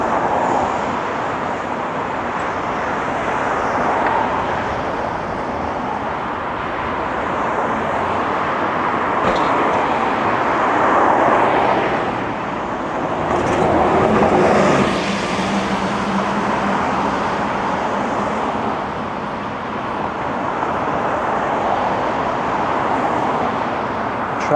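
Relentless road traffic on Yonge Street in Toronto, a continuous roar of cars and buses with swells as heavier vehicles pass nearby, no voices.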